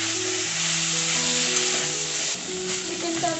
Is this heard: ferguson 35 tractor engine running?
no